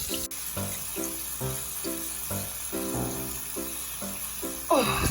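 Water from a tap runs steadily for washing at a sink, a continuous close hiss with rhythmic clattering pulses on top and a brief splash near the end.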